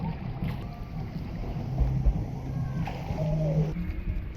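Cold, gusty wind blows outdoors on a trip in Chungnam, Korea, buffeting the microphone as a deep, uneven rumble that surges and eases over a few seconds, with faint thin sounds above it.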